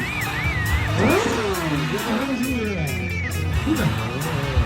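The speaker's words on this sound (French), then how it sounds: "Regardez-moi ce freinage." A stunt motorbike brakes hard and revs on a show track, engine pitch swooping up and down in quick bursts with a tire squeal, while an announcer talks excitedly over it.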